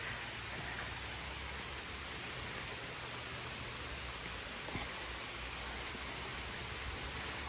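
Steady rain falls outside in a garden during Hurricane Helene, a constant even hiss of drops without pause, and no voices over it.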